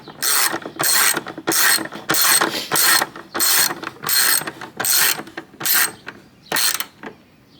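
Ten-millimetre bolts being snugged down with a ratchet on a Chevy S10 blower motor: about a dozen quick ratcheting bursts in a steady rhythm, close and fairly loud, with no talk over them.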